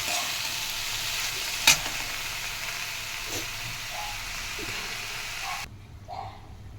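Water spinach sizzling steadily in a frying pan, a close, even hiss broken by one sharp clank and a few soft stirring scrapes before the frying noise abruptly drops away near the end.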